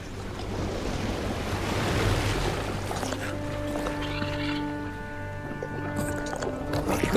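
River water in a video game rushes and washes steadily like surf, with wind-like noise throughout and a sustained tonal hum appearing partway through.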